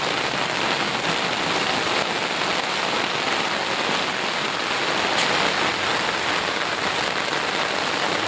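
Heavy rain pouring onto a village market street that is filling with water, a loud, even hiss of downpour that goes on without a break and with no voices.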